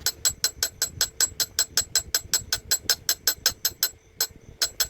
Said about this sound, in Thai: เคาะไปเรื่อยๆ จนขอบ